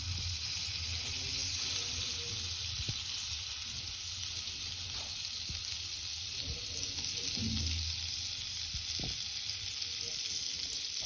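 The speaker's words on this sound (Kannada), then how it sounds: "ಅದಕ್ಕೆ ಇವಾಗ ಬೆಣ್ಣೆ ಸೇರಿಸ್ತಾ ಇದ್ದೀನಿ." Butter melting in a pan used to fry vegetables for pasta: a steady, bright sizzle and frying hiss throughout, with occasional soft clinks and stirring sounds, moderately close.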